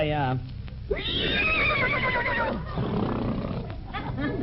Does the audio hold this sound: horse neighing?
yes